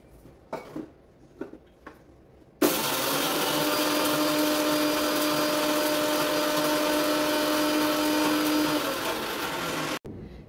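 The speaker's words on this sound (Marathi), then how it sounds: "हा भाजलेला मसाला आपण थोडासा रफली क्रश करून घेऊया" A kitchen mixer grinds roasted masala spices for amla pickle, starting abruptly with a loud, steady whirring drone that lasts about seven seconds before stopping, after a few quieter clicks and taps.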